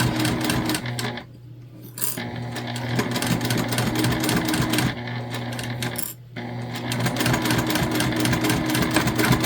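A sewing machine stitches a quilted pouch in close, rapid mechanical bursts, with two short pauses before the steady chatter resumes.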